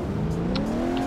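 A car engine hums and rises in pitch as it accelerates in the driving game Alarm für Cobra 11, a steady close drone with a few brief high clicks over it.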